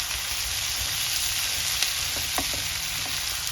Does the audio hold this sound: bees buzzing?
no